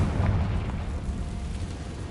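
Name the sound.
Confringo explosion spell from video game Hogwarts Legacy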